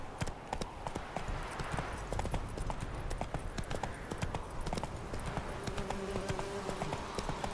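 Horse hooves clip-clop steadily in The Witcher: Wild Hunt video game, a continuous trotting rhythm of close, crisp hoof strikes over ambient game sound, with a faint tonal music line appearing near the end.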